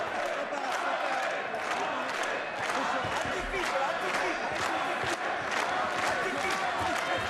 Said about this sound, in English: Crowd beginning to get behind the home man.